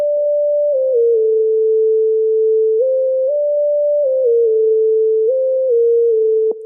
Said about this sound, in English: So here's what this lead sounds like.